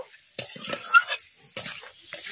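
Sea crab pieces with spices are tossed in a pan in a few quick scraping, clattering strokes, with a light sizzle between them.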